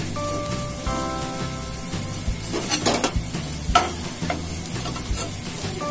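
Pieces of bread fry in desi ghee in a pan for shahi tukda, a loud close sizzle with rain-like crackle and occasional stirring clatter, and no voices.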